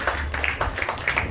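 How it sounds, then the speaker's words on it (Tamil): A church congregation claps in quick, rhythmic unison during a Tamil sermon, sharp repeated claps at an even tempo close by. "கைத்தட்டி ஆண்டவர் மையப்படுத்துறாங்க"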